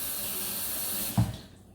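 Tap water gushes steadily into a cooking pot of meat for Southern collard greens, a loud even hiss that ends with a brief clunk before it fades.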